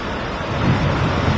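Heavy rainfall in Mumbai's flooded Kurla area, a dense steady roar of rain with a deep rumbling undertone, loud and continuous without any voices.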